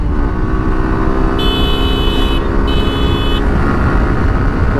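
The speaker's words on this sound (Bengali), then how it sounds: "ফোর্থ গিয়ার দিয়েছি" Suzuki Gixxer Fi ABS motorcycle engine droning steadily while accelerating in fourth gear, loud and close with strong wind rush, plus a couple of high electronic beeps in the middle.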